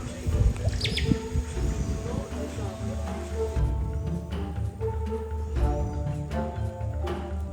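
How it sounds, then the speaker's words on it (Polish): Birds call in the Amazon jungle in Peru, with sharp chirps and squawks over a dense layer of buzzing and rustling. Some bird cries sound close, others farther off. "te ptaki dziwne takie dźwięki wydają"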